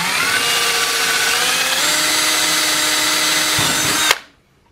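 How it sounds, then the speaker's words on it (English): A power drill bores through plastic with a small bit, grinding loudly and steadily at close range before stopping abruptly near the end. "So, I'm going to drill this."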